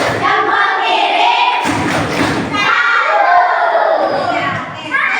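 A class of children performs a tepuk salut clapping chant together, rhythmic group clapping and thumps mixed with loud shouted chanting voices in a classroom.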